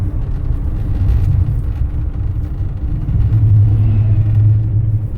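A huge tractor-like road vehicle rumbles past on a highway, a loud, steady low engine drone that swells slightly as it goes by, with no one talking.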